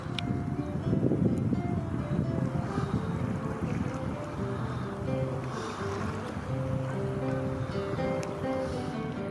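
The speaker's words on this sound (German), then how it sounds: "da fährt mein erstes Kajak. Ein Intex Challenger K2" An Intex Challenger K2 inflatable kayak on an icy lake, with steady water wash and wind buffeting the microphone throughout, a low continuous rumble without distinct paddle strokes.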